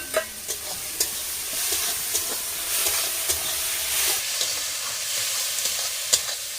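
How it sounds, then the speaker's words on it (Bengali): Fried potatoes are stirred into sautéed spice paste in a pan for a bhetki fish kalia, with a steady close sizzle punctuated by repeated scraping stirs and light knocks of the spoon; no talking. "মশলাটা ভালোভাবে কষানো হয়ে গেছে এবার এর মধ্যে দিয়ে দেবো ভেজে রাখা আলু"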